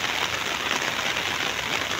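Heavy typhoon rain from Typhoon Verbena pouring down in the Visayas, a dense, steady hiss of downpour with no break, loud and uniform throughout.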